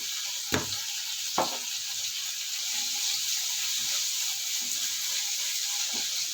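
Onions frying in hot coconut oil for an onion chutney give off a steady close sizzling hiss, broken by a couple of sharp utensil knocks near the start and a faint tap near the end.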